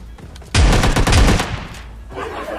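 Shotgun blasts in the mobile battle-royale game PUBG Mobile Lite: a couple of heavy, close booming shots in quick succession followed by a lingering rumble, with no voices over them.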